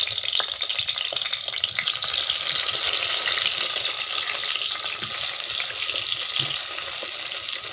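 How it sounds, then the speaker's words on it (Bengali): Eggplant slices fry in hot mustard oil in a wok, giving a steady, loud, close sizzle that runs unbroken throughout with no talking. "এবার আমি দিয়ে দিচ্ছি বেগুন, আর বেগুনগুলো প্রথমে আমি ভেজে নেব।"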